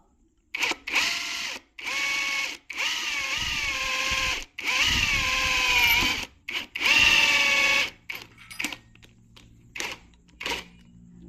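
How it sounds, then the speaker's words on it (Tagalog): An impact drill fitted with a 1/8 bit bores a hole, whining in several loud bursts of a few seconds each with pitch shifts under load, then short stops and faint clicks as it finishes. "titestingin natin. Gamit yung impact drill."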